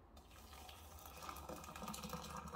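Hot water pours steadily into a slow cooker holding a beef stew, a continuous close splashing stream that grows slightly fuller as the pot fills, with no voices.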